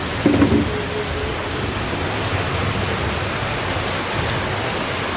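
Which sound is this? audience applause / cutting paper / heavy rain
heavy rain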